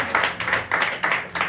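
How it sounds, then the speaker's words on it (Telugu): A church congregation claps loudly together in a steady rhythmic beat, about five firm bursts of hand claps in quick succession, close and full. "చప్పట్లు కొట్టండి గట్టిగా"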